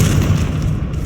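A Confringo fire spell explodes in the Hogwarts Legacy video game as a loud, deep, rumbling boom that fills the short moment without pause.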